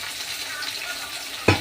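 Thin potato slices frying with onion in a pan, a steady soft hissing sizzle close up, ending in a brief knock.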